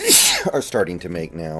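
A single sharp human sneeze bursts out at the start, loud and close, followed right away by a man's speech.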